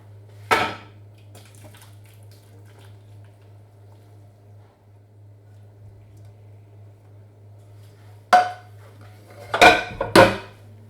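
Lancashire hotpot ingredients being tipped into a casserole dish, heard as a single clatter of dish and utensil, then a quiet stretch over a low steady hum, then a few quick close clunks and scrapes near the end.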